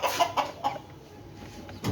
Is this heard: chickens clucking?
yes